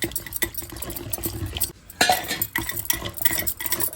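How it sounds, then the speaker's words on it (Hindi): Chickpea greens saag being mashed and stirred in a metal pot off the fire in a village kitchen, with a busy run of scraping, clinking utensil strokes that repeat in an uneven rhythm up close. "उतार कर घोटेंगे, नहीं तो चूल्हे पर घोटते नहीं बनता है, डर लगता है कहीं फूट जाए।"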